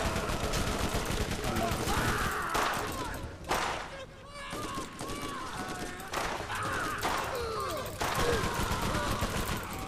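Rapid gunfire and bursts of shooting in the video game Borderlands, including revolver shots, crackling in dense volleys with brief gaps while players talk over the action.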